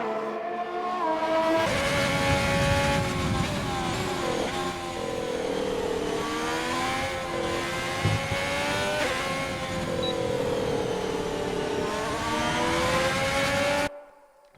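A Ferrari SF71H Formula 1 car screams through a racing video game's Australian circuit, its high engine whine climbing and dropping steadily through repeated gear changes, loud and continuous with no talking.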